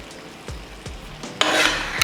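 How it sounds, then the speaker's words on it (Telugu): A spoon scrapes and stirs raw chicken pieces sprinkled with salt through an Andhra-style chicken curry gravy in a pan, with several close, rhythmic scraping strokes, then a longer, louder burst of sizzling, rasping stirring at the end, with no talking. "ఇదంతా ముక్కకి బాగా పట్టేటట్టు ఈ గ్రేవీ అంతా బాగా కలుపుకుందాము"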